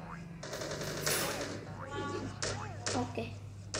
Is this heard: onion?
no